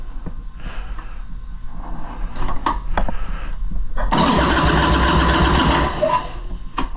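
A 1981 Harley-Davidson Ironhead Sportster with bad batteries and the choke pulled out cranks and tries to start. Short stuttering turns lead into a loud, sustained sputtering burst that runs for a couple of seconds, close to the listener.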